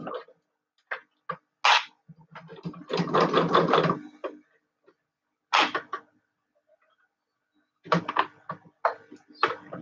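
Short bursts of rapid mechanical chatter from a sewing machine basting stitches on a pet collar, close up, with one longer run in the middle and quiet pauses between.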